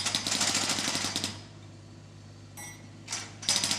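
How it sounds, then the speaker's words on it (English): An excavator's hydraulic hammer breaking up pavement, pounding in a fast, loud rapid-fire burst, then pausing to a low engine idle before hammering resumes in short bursts near the end. "The clever digger can spin all the way around and hammer on the other side too."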